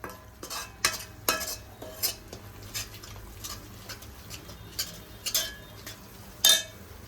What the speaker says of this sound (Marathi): याला आता छान तेल सुटसपर्यंत परतून घ्यायचं